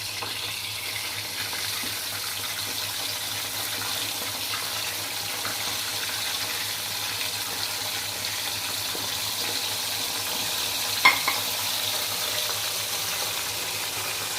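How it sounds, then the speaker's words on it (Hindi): Korean fried chicken pieces go back into hot oil for a second fry, producing a steady, even hiss of deep frying that holds at moderate loudness, with one brief knock near the end. "तो अब इनको मैं दोबारा फ्राई करने के लिए डाल दूँगी।"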